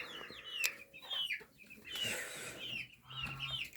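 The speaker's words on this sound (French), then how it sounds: "Mes poules, toutes mes poules pondent pratiquement" Hens cluck close by in a backyard flock, giving repeated soft clucks and short squawking calls over a few seconds with faint ambient noise around them.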